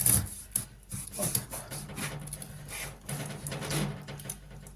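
A knife saws through pieces of carp along the backbone, a close, soft run of uneven rasping and scraping strokes at a kitchen counter, with no talk.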